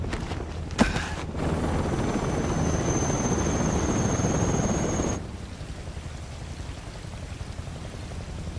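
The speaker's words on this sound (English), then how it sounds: "I love the sound of helicopters." A loud, continuous video game helicopter rotor drone from Metal Gear Solid Delta with a high whine drops suddenly to a quieter rumble partway through; a brief clank sounds near the start.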